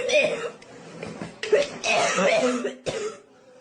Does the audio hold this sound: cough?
yes